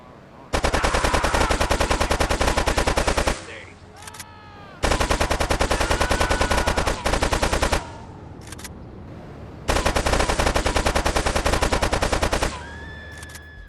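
AK-47 automatic fire from the video game Grand Theft Auto 3 Definitive Edition rattles out in three long, loud, rapid bursts, with brief pauses and faint clinks in between.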